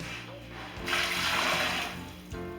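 Hot water pours steadily from a tap into a pressure canner, a broad rushing splash that swells for a couple of seconds and then tapers off, close and fairly loud.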